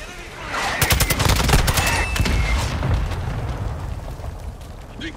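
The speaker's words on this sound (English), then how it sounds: "I'm taking enemy fire" Gunfire in the video game Modern Warfare 2 multiplayer: dense bursts of rapid shots and explosions, loud and close, with a continuous rumbling background.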